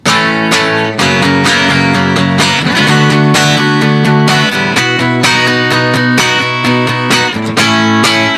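A strummed guitar riff from a song that hangs on a suspended chord and resolves, played steadily and loud with no voices.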